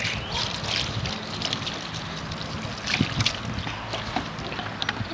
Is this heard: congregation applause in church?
no